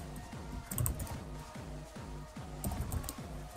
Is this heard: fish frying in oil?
no